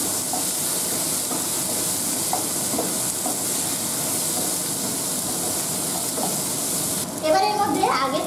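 Potatoes sizzle in hot oil in a pan for ghugni, a dense steady frying hiss close up, with a stirring scrape near the end.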